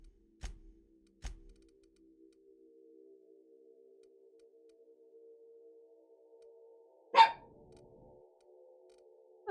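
A dog in the video game The Outer Worlds gives two short barks close together, then another sharp bark several seconds later, over a faint steady hum from the game.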